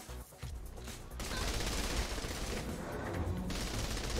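Gunfire from a weak gun in Saints Row 3 crackles in a continuous rapid stream, fairly faint and muffled beneath the game's background noise, with no talking.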